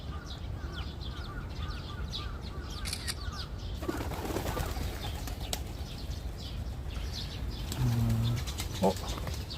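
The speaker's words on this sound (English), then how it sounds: "Oh, look at the number of birds here." A large flock of pigeons in Ueno, Tokyo flaps and flutters in a busy outdoor setting, the wingbeats a soft, continuous rustle under city ambience, with a brief low cooing tone near the end.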